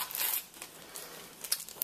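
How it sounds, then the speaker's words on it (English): Protective film being peeled off stencil material, faint close crinkling and crackling plastic with a few brief sharper tears. "I decided to go ahead and take the film off"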